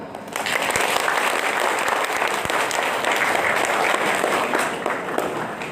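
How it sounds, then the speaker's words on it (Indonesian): Audience applause at a public awareness session on preventing human trafficking of workers: dense, steady clapping fills the room loudly and evenly for several seconds, beginning abruptly and easing slightly at the end. "silakan kalau untuk tepuk tangan"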